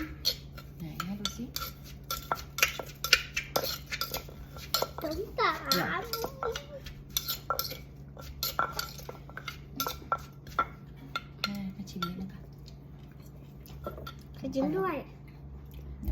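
A large spoon stirring and scraping som tam in a bowl, with intermittent clinks and knocks of utensils against dishes, while a woman and a child chat throughout.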